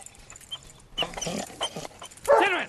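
Suicune's cry in a Pokemon Crystal battle, a short harsh, rising 8-bit synthesized beast call at the end, following a few bursts of chiptune game sounds.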